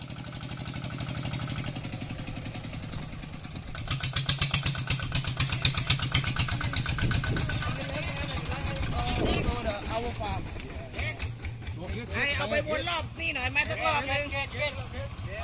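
A vehicle engine runs continuously with a rumbling, steady drone during a ride to a mango orchard in Thailand, with people talking over it throughout.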